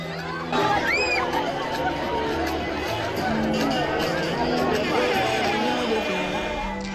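A large crowd gathered at ISP Walungu to welcome the visiting official Norbert Basengezi Katintima at his jeep, heard as a continuous loud babble of many voices and chatter.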